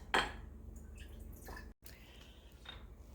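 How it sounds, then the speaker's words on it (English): Apple cider vinegar poured into a pot in a kitchen, a brief splash and trickle of liquid at the start followed by faint clinks and soft kitchen sounds, quiet overall. "I'm using apple cider vinegar, but you can use just about any kind of vinegar that you like. Pour that into a pot."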